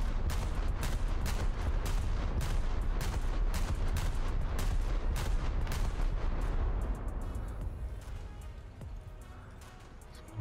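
Naval guns fire a heavy salvo in the War Thunder video game, with dense, loud booming blasts for about seven seconds before the barrage thins and fades into a decaying rumble.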